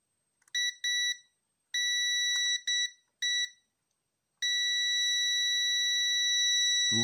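A multimeter on continuity mode beeps while testing a shorted switching transistor: several short electronic beeps, then a long sustained tone, clean and close in a quiet room.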